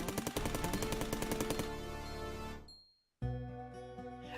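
An assault rifle in Cally's Trials fires a fast, steady stream of rapid shots layered over bright game music. It breaks off, the sound falls silent for a moment, then the music resumes.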